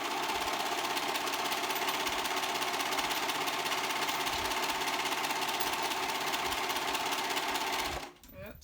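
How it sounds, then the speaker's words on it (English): A serger runs continuously at high speed, buzzing loud and steady as it stitches around the edges of a tee shirt's fabric, then stops abruptly near the end. "doing the same thing, just serging it all the way around"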